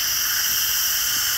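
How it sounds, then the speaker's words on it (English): Steam hisses steadily from the release valve of a pressure cooker during a pork curry, one loud unbroken rush held throughout. "pressing that all the way over to let that steam out."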